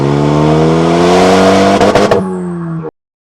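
A third-generation Renault Megane RS engine revs hard and close, its strong rising tone holding steady, then wavering briefly before falling back and cutting off abruptly.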